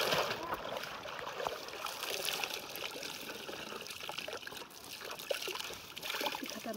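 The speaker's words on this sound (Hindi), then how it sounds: "तो मैं यहीं पर पानी लाई हूँ, हल्के से इसको धो लूँगी।" A clothing suit is hand-washed in water, with steady splashing, trickling and dribbling throughout, close and moderately faint, and occasional light handling knocks.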